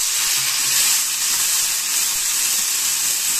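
Spice paste and whole green chillies frying in hot oil in a wok, a steady, loud, even sizzle with a hissing crackle throughout.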